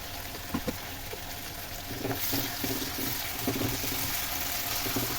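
Garlic and ginger paste spattering in hot oil in a pan: a steady frying hiss that grows louder partway through, scattered with small crackling pops, close by and without talking.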